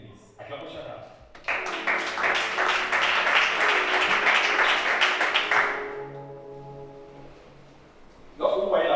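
Church congregation applauding during a worship service: a dense burst of clapping from many hands rises after a brief spoken phrase, holds for several seconds, then fades, with voices and speech returning at the end.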